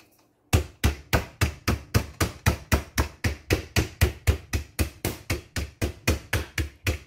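Covered chicken breasts are pounded flat with a kitchen mallet in a steady series of about twenty-five close, evenly spaced thuds that keep a firm rhythm for nearly seven seconds with no talk.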